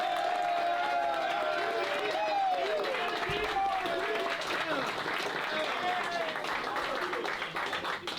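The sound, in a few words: round of applause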